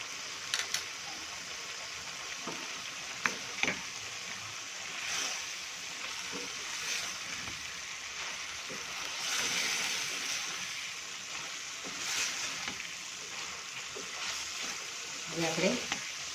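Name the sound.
carrots and onions with spices stir-fried in a pan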